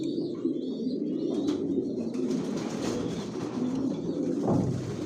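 Racing pigeons cooing in a loft, a steady murmur of overlapping low coos with occasional wingbeats, close and continuous throughout with no talking.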